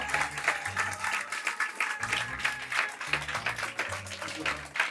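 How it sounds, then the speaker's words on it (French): A comedy club audience applauds a guest, a steady wash of many hands clapping at moderate distance, with music playing beneath. "On peut l'applaudir. Faites un maximum de bruit pour le Twitcher."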